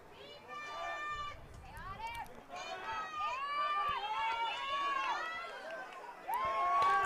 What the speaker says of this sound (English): Cheyenne Mountain fans cheering on the defense